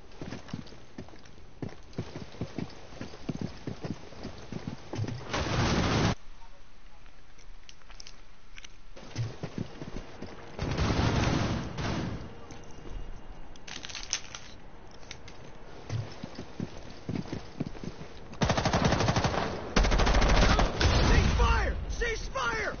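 Bursts of gunfire in Rainbow Six come in short clusters separated by quieter stretches, with several louder volleys partway through and near the end, and voices talking over parts of it.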